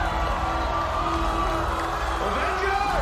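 A cinema audience at a Marvel movie screening cheers and whoops in a dense, continuous crowd roar, with mixed shouts rising over the steady wall of noise.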